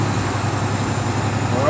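A tractor trailer's diesel engine drones steadily and close during a double clutch shift, the rev rising slightly at the end, with a voice talking over it.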